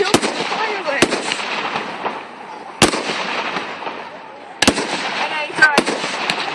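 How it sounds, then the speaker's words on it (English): Fireworks go off at a town display in Romsey, with sharp bangs roughly every second or two over continuous crackling and fizzing. People talk faintly in the background. "I was filming the fireworks."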